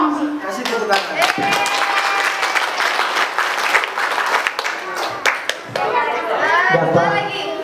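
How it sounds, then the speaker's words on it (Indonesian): Children at an Islamic school's Isra' Mi'raj event break into loud, sustained applause with scattered chatter and young voices mixed through the clapping. "Kasih tepuk tangan."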